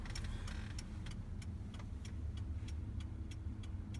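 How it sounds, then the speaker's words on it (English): A truck drives along carrying a load of cedar deck boards and posts, giving a steady low engine and road rumble with a regular ticking, like a turn signal, over it. "I'm driving all the lumber home now."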